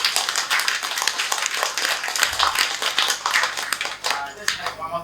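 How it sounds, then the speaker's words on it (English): An audience at a Penang Hill heritage talk breaks into brisk applause, a close, dense patter of many hands clapping continuously and loudly throughout. "Please give yourself a round of applause."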